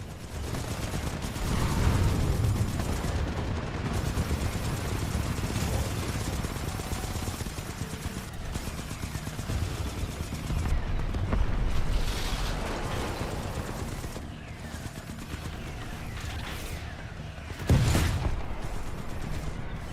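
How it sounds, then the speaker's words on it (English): Mortar titans barrage the harvester in Titanfall 2 Frontier Defense, with a continuous roar of distant explosions and mechanical clanking, occasional sharper blasts cutting through, and one loud impact near the end. "The harvester's getting barraged by mortar titans."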